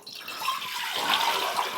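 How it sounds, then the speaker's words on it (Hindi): About a litre of water poured into a cooking pot of vegetables for a stock, a steady close splashing rush with no talking. "ये मैंने तकरीबन 1 लीटर जो है वो पानी डाला है"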